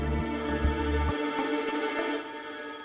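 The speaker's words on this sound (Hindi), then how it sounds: "ओ भाई, इस समय फोन कहाँ से आ गया?" A telephone rings indoors in a home, a bright, sustained electronic ring with faint rhythmic knocks underneath, carrying on steadily for nearly three seconds.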